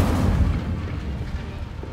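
A blaze in the video game Hogwarts Legacy: a steady, loud, low roaring rumble that fades slightly over a short stretch, with no talk.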